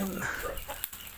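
Backyard poultry chickens cluck in brief bursts, at moderate volume, with some broadband farmyard noise around them and no speech.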